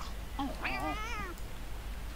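A cat in The Sims 2 meows once, a clear rising-and-falling wavering call in the middle of the moment, over a quiet steady game background.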